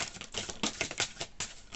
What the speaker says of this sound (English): I don't know why I kept shuffling.